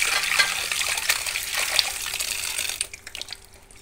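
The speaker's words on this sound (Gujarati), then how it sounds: "આપણે એને પાણીમાં ગમેલામાં પાણી લઈને સરસ ધોઈ લઈશું" Food being washed by hand in a basin of water in a home kitchen, with steady splashing and trickling that runs for about three seconds and then fades away.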